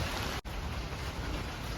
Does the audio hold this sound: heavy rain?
yes